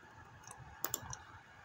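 A Ctrl+2 shortcut pressed on a computer keyboard gives a couple of quick, close, faint clicks in an otherwise quiet room.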